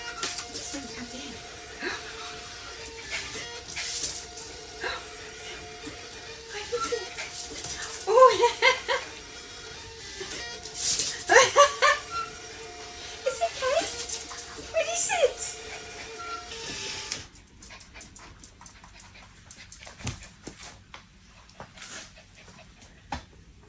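A dog in a warehouse gives a few sharp barks and whines, interrupted by people talking and a steady background hum that cuts out near the end.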